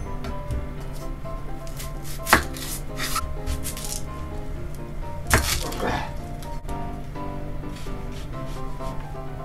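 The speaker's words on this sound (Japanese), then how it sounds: "玉ねぎ切っていきます" A knife cuts onion on a board, with soft rubbing and slicing strokes and two sharp knocks of the blade against the board over a low steady hum.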